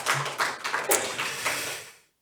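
A church congregation claps to welcome a newcomer, a short burst of scattered, uneven hand claps close by that fades out to silence after about two seconds.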